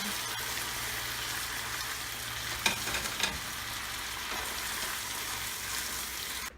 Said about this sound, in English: So now that my veggies are all cooked, I'm going to add the sauce I made. And then I'm also going to add the pork back in.